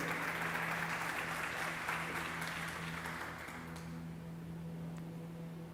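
A church congregation applauds during an evening worship service, steady dense clapping heard from a distance that thins out slightly toward the end, with a constant low hum beneath it.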